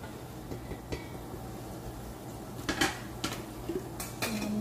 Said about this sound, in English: I'm going to take a big spatula and mix it all together